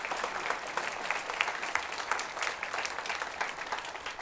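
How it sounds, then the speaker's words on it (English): Audience applause at a middle school band spring concert, a steady dense clapping from a crowd heard throughout at moderate distance, with no voices over it. "A round of applause."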